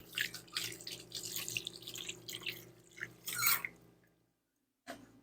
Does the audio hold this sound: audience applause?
no